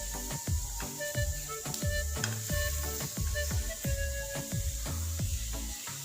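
Vegetables for salsa are tossed in a hot pan, giving loud, steady sizzling broken by a regular rhythm of scraping tosses about twice a second, close up.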